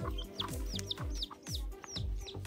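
A chick chirps repeatedly in quick, high peeping calls, close by at an outdoor picnic area, mixed with soft low thumps.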